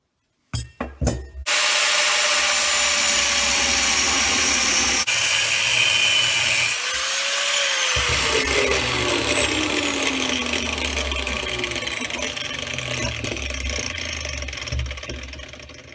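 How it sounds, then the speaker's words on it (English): An aluminium bronze knife hilt gets rough sanded on a power tool: a few clicks, then a loud, steady high grinding hiss that runs for many seconds and shifts in pitch as the metal is worked, then tapers slightly. "Here's the rough sanding, a little bit finer, and up to the polishing stage."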